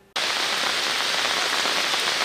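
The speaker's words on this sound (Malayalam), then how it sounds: "രണ്ട് ദിവസമായി തുടർച്ചയായി പെയ്യുന്ന മഴയിൽ പൊന്നാനി താലൂക്കിൽ വൻ നാശനഷ്ടം." Heavy monsoon rain in Ponnani taluk, Kerala, after two days of continuous downpour, starts abruptly as a dense, loud, steady roar of rain pounding a surface, with no voices.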